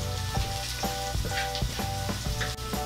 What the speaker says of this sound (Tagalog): Tapos hahaluin natin ito. Hihintayin po natin na medyo mag-golden brown po yung kanyang kulay.